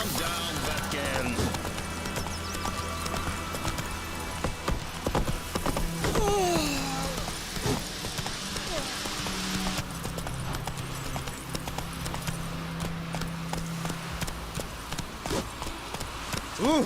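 Hooves of Roach, a horse in The Witcher 3, clip-clop steadily at a gallop throughout, under ambient game sounds and brief bits of character dialogue.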